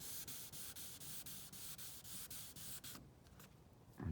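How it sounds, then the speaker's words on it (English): Wet sandpaper rubbing back and forth over a clear coat run on a 1959 Chevy El Camino, a steady close scrubbing with rhythmic strokes that thins out near the end before a brief louder bump. "keep the sandpaper wet. And you can feel it when you're moving that sandpaper across there"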